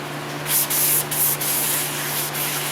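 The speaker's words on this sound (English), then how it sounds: "Naturally, there's going to be some brake clean action." Brake cleaner sprayed onto a Ford Escape front brake, two or three hissing aerosol bursts over a steady low hum, close and moderately loud with short pauses between sprays.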